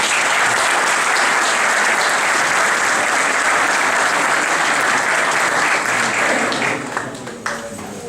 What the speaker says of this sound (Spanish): Un aplauso para lo del 1900.